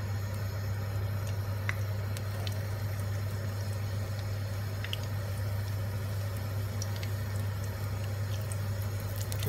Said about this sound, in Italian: li passiamo nell'uovo e li friggiamo in olio bollente.